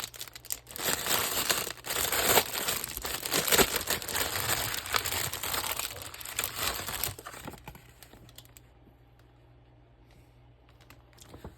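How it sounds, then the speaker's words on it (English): Tim Holtz craft stock paper being handled up close, crisp rustling and crinkling in quick irregular bursts for several seconds, then fading to quieter faint handling. "Now this is Tim Holtz craft stock paper."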